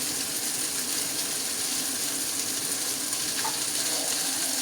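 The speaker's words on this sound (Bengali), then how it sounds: "আমি এখানে একটু গরম পানি অ্যাড করে দিচ্ছি মশলাটা কষানোর জন্য" Hot water hits frying masala of golden onions and spices in a pan, setting off a loud, steady, continuous hiss and sizzle with no voices.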